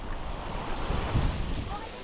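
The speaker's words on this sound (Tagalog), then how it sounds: "Malakas yung hangin. Sumasampa na yung alon dito sa may kalsado." Waves surge and wash heavily onto a road amid strong wind buffeting the microphone, a continuous rough roar with a swell in the middle.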